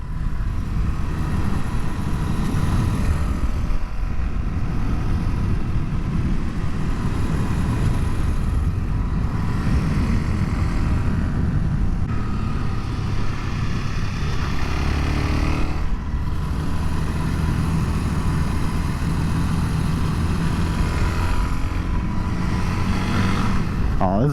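Suzuki DR-Z400SM supermoto ridden on a winding road, a steady engine hum mixed with wind rush, fairly quiet and constant, with a rider's voice speaking over it at times.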